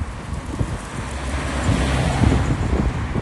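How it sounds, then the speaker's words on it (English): Strong wind buffets a smartphone microphone outdoors, a loud, continuous low rumble that swells and eases, with a faint traffic-like wash behind it and no speech. "wind sometimes can obscure what's said on video sound"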